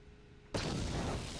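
An explosion in the video game Knights of the Old Republic II breaks out suddenly after a quiet hum, a loud, close roar that keeps rumbling to the end.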